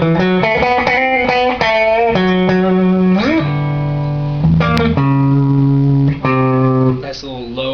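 A Burny Les Paul Custom electric guitar played with both pickups selected, ringing out loud, sustained chords and single notes one after another, with slides between positions and a clean, full tone throughout.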